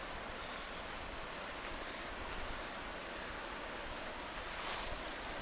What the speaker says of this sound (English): Very loud stream.